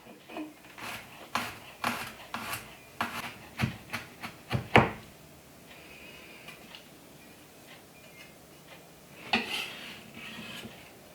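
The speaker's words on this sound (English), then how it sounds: "I'm going to go pretty fine mince on my garlic as well" Garlic finely minced with a knife on a cutting board, a run of crisp, uneven chopping taps close by, then a pause and a few scattered scraping chops.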